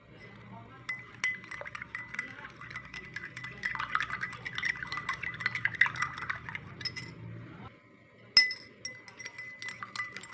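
A spoon stirs sugar and salt solutions in laboratory glassware, producing quiet, rapid, repeated clinks against the glass with a soft swirl of liquid, followed by a sharper tap and a few final clinks.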